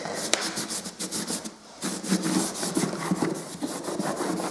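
A cloth rubs back and forth against skirting boards before painting, producing rapid, rhythmic scrubbing strokes close up, with a brief pause partway through before the scrubbing resumes.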